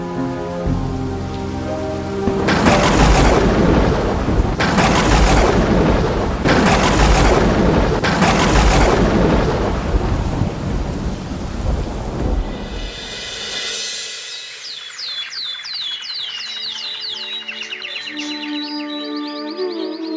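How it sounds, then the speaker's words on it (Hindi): Heavy rain pours in dense bursts, then eases off as birds begin chirping clearly in the quieter stretch that follows. "बाहर बारिश हो रही है"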